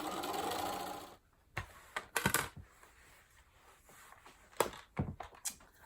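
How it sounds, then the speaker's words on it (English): A sewing machine runs in a steady whirring burst as quilt block halves are stitched together along the edge. Quiet clicks and handling knocks from the fabric and machine follow. "I'm going to try to match up, in particular, the very first one, and then sew right along the edge."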